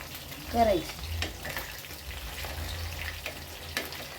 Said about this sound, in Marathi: कंटक्की आता आपली तळती आहे. तिला मंद आचेवरती 15 ते 20 मिनिटं होऊ द्यायचं आहे चांगलं.